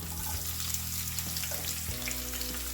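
Oil frying in a pan during Andhra-style bottle gourd curd pachadi cooking, a steady close sizzle that shifts briefly near the end, alone with no talk.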